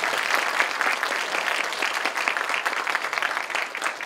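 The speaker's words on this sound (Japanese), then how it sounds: "今一度登壇をしていただきました3人のパネリストの方々に盛大な拍手をいただければと思います。" Symposium audience in a hall gives sustained, loud applause for three panelists; the clapping stays thick and continuous from start to finish with no one speaking.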